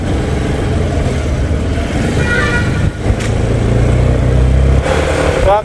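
A new Suzuki Burgman Ex scooter pulls out of a parking area, its engine humming and revving up with steady, close mechanical drone amid outdoor background noise.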